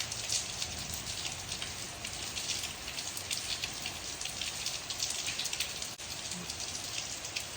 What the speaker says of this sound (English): big shocker that it's raining